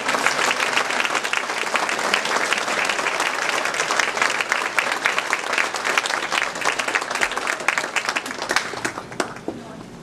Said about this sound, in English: So if you'll please applaud the teachers.